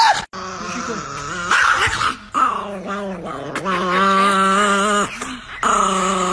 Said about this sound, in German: Warum ist dieser Hund so aggressiv?